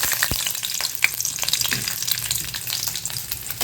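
Garlic frying in a little oil for an onion chutney, a steady close sizzle with a few sharp crackles and stirring scrapes running throughout.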